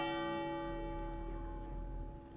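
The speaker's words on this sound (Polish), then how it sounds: "O, dzwon." Church bell ringing from a bell tower in Venice, one sustained resonant strike with a long humming decay, heard from a distance, faint, with no talking.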